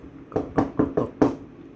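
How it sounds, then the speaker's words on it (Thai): A wooden slit drum (krao), struck to summon villagers, gives five sharp, hollow knocks in quick succession, close and distinct, then falls silent. "กำนันจี เคาะเกราะเรียกประสุมลูกบาศอีกแล้วครับท่าน"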